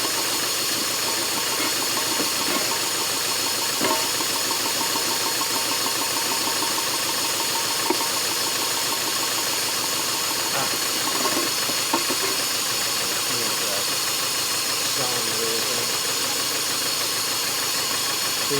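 A four-cylinder motor running on only two cylinders at around 1800 RPM, a steady, moderately quiet idle-like drone with faint knocking and rattling, heard alone without talk.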